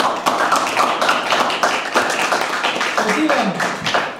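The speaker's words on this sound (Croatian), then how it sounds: "pozivam sada da jednim pljeskom pozdravite večerašnje promotore" An audience claps to greet the speakers at a book presentation, a scattered and uneven round of hand claps with distinct individual claps.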